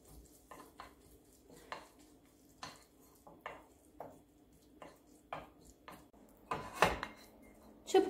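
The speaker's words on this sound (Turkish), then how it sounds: "Karıştırıyorum." A spoon stirs a ginger cough remedy in a pot off the heat, with freshly grated ginger added, making quiet, regular clinks and scrapes against the metal roughly every half second.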